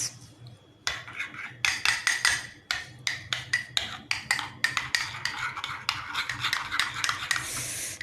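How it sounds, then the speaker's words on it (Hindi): Nando's chilli sauce being mixed into burger sauce in a bowl, a quick run of close clinking, scraping spoon strokes against the dish, rhythmic and busy, with no voices. "ये इसमें डाल दिया है और बस अब इसको आपने करना है मिक्स।"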